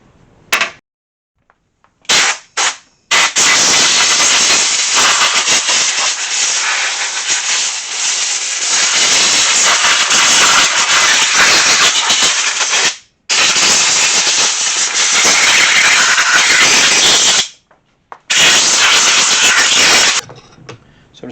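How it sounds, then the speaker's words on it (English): Compressed air blasting dirt off a Volkswagen Beetle engine: long, loud, steady hissing bursts with short gaps between them, close up, with no talking. "I'm just going to basically blow off all the crap that's on the engine, just so we've got a clean start"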